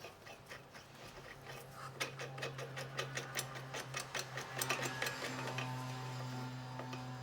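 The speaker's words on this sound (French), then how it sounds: "Donc on vient resserrer le boulon." Tightening a bolt on the exhaust of a Peugeot 206 1.4 HDi: a run of quick metallic ratchet clicks, close and moderately loud, over a steady low hum, with no talking.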